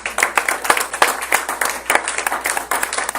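A church congregation at a Sunday service claps in a steady rhythm, a dense run of close, loud hand claps continuing throughout with no talk over it.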